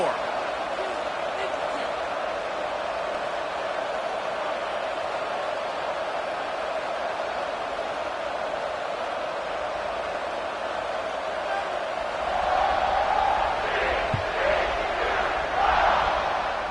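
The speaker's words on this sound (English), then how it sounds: "this crowd is buzzing after that last score" Football stadium crowd buzzing after a score and extra point: a steady, loud broadband murmur of many voices fills the whole stretch, swelling slightly near the end, with a commentator talking over it.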